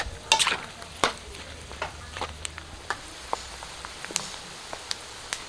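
Oil sizzles steadily in a pan over low heat, punctuated by sharp, irregular pops and crackles of frying pork skin, fairly quiet and close, with no voices.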